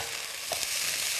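A beef and bean sprout stir-fry sizzles steadily in a pan, a close, bright frying hiss with a few soft stirring scrapes and no talking.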